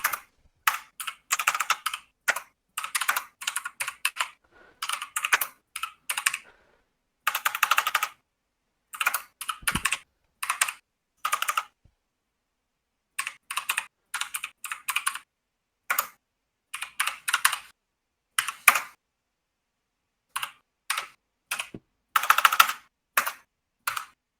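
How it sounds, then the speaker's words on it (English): Bursts of typing on a computer keyboard, irregular clusters of quick key clicks separated by short silences, close and moderately quiet, with no talk. "I'm bad at typing."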